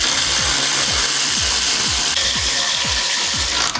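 A hand ratchet snugs down the Brembo brake caliper bolts on a BMW E92 M3 during a big brake kit install, giving a steady run of about eight sharp, even clicking pawl strokes, close and loud, with no talking.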